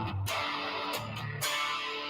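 An electric guitar plays through a '65 spring reverb model, giving brief struck notes with a washy, splashy reverb tail, moderately loud and close.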